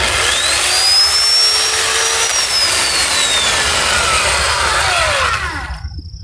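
An electric chainsaw running on a portable solar power station cuts through wood with a loud, continuous whining buzz and shifting pitch for several seconds, then winds down and stops.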